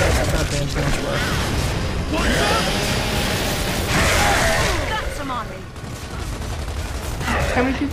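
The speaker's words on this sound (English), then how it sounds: "if you have the Lancer, just blind fire" Lancer rifle blind fire in Gears of War 3 during combat: dense, sustained bursts of automatic gunfire and impacts, loud and continuous, with voices talking over the shooting.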